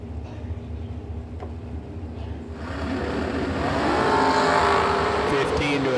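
Drag race door cars launch down the strip, a steady engine rumble swelling into a loud, rising roar near the end while an announcer talks over it.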